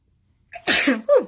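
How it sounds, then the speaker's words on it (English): A single loud sneeze right up close, a quick intake followed by a sharp burst and a short trailing vocal sound. "I just sneezed there"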